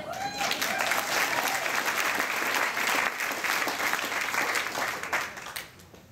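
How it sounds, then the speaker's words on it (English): A crowd applauds at a Jewish community dance show, a loud, dense burst of clapping that holds steady for several seconds before tapering off, with a few voices and cheers mixed in. "Okay, if you clap."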